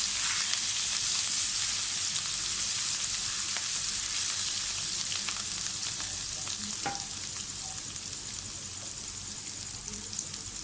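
Steady sizzling of garlic frying in about 4 to 5 tablespoons of hot oil, close and continuous, with occasional small pops and stirring scrapes, no voices.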